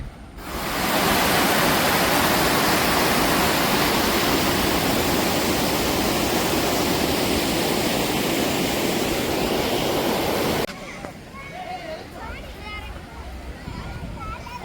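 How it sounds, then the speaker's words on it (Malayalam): A small stream of water flows steadily at Aliyar dam, a loud dense rushing wash held close for about ten seconds before cutting away to quieter surroundings. "ഒരു ചെറിയ ഇങ്ങനെ വെള്ളം ഒഴുകുന്നു"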